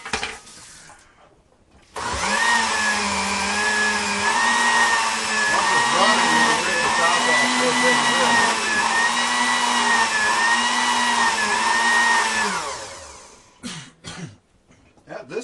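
A Vitamix blender blends a green smoothie, its loud, steady motor whir starting abruptly and running for about eleven seconds before winding down, with faint clicks after it stops.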